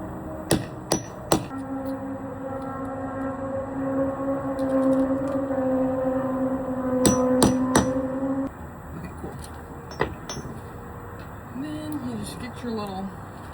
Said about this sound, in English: First little hammer, okay? And you will make your hole.